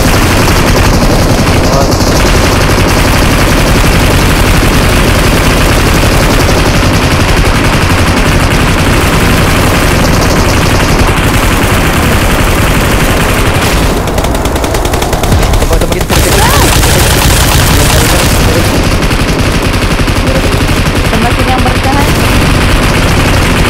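Loud automatic gunfire rattles in PUBG Mobile, sustained bursts of rapid shots that fill the whole stretch with barely a pause, with game effects layered underneath.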